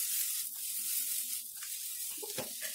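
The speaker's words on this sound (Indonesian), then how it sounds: "Masukkan sosis semua. Oke ya, masukkan semua. Kita tumis sampai matang." Sausages sauté in a hot pan, a close, steady sizzle and hiss of frying with a few stirring scrapes and clinks toward the end.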